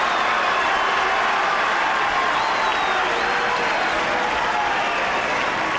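The tennis crowd at the Foro Italico in Rome applauds continuously during the 2006 final between Nadal and Federer, a loud, dense, sustained wash of clapping from a large stadium audience.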